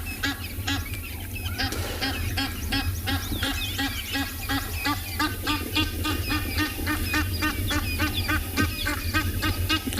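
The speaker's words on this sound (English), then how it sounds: "Less than glorious sound of an irritated Egyptian goose." An irritated Egyptian goose honks continuously in the wild: loud, rapid, repeated harsh honks and cackles, close and persistent throughout, with a low rumbling background.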